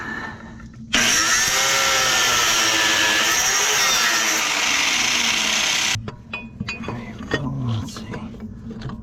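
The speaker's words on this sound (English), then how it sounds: "I'm gonna just put the grinder right in here, see if I can just take a little metal off." An angle grinder cuts metal from a Hitachi excavator part, a loud steady high whine lasting about five seconds before cutting off, followed by scattered clanks and shop noise.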